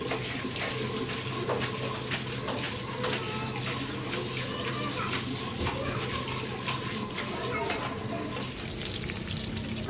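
Water runs steadily over tripe as it is washed, a continuous splashing rush with no break and no talk.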